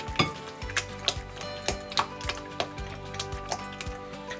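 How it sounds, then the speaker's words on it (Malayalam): Eggs and potato are being whisked together in a bowl for a Spanish omelette, making close, irregular clinks and taps of utensil against bowl with softer scraping between them. "ഈ മുട്ടയിലേക്ക് ഈ പൊട്ടറ്റോ ഇട്ടായിട്ട് നല്ലോണം ഒന്ന് മിക്സ് ചെയ്ത് കൊടുക്കുക"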